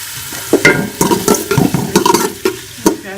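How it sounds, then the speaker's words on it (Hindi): Chopped onions, two large ones, frying and being stirred in ghee in a pot while cooking boti ka salan: steady close sizzling broken by repeated scraping stir strokes, with no talking. "इसको मैं ब्राउन होने तक फ्राई कर लूँगी।"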